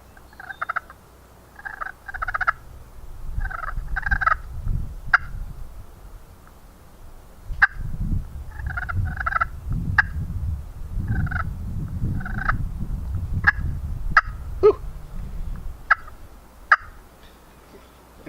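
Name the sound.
purr cluck on a slate turkey call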